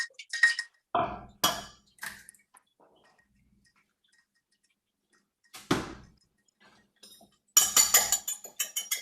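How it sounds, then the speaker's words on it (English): An egg whisked with a fork in a cup, delivered in quick bursts of rapid, close clinking taps separated by pauses of near silence, with a final louder flurry of beating at the end. "break an egg into a cup or a bowl and give that a good whisk"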